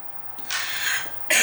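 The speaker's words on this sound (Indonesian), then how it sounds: "aduh, sambil batuk ya" A person coughs twice: a short, breathy burst followed after a pause by a sharper, louder one, close to the microphone with no other speech.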